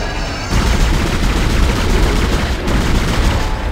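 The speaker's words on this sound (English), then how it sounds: "This pulse rifle is a beast!" Pulse rifle in the sci-fi horror game Dead Space firing in a loud, sustained automatic burst of rapid crackling shots with a heavy low-end boom, no talking.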